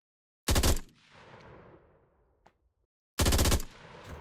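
A machine pistol in a Vietnam-era first-person shooter video game fires two short, loud, close bursts separated by about two and a half seconds, and the first burst's echo fades out between them.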